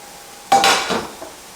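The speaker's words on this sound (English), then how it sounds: "We're going to let it slide out right to the middle of the pan, and then put your spatula here and push it with your pan" An omelet scraped and slid across a frying pan with a spatula, a sudden close clatter of metal on pan followed by a brief scraping slide and one small knock.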